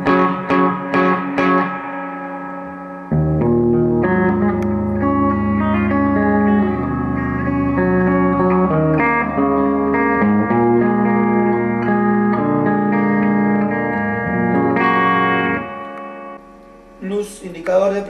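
Electric guitar played clean through a Dime Amp 100-watt combo with reverb: a few plucked notes, then sustained chords and melodic lines ringing with a lush reverb tail, loud and alone.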